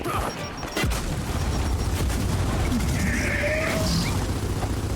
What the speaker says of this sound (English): I need to stop throwing grenades. They just bounce right off.